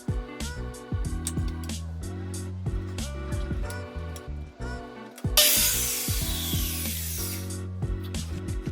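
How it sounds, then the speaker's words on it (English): A power saw cuts wooden 2x2 blocks, its motor whining steadily with pitch dips as the blade bites into the wood, then a loud, rushing cutting burst, close and alone. "Here I'm cutting the 2x2 blocks to support the Scora beam"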